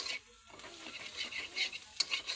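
An egg is stirred as it fries in a pan: a close, continuous sizzle with bursts of spatula scraping, a brief lull early on, then a sharp clink of the utensil against the pan.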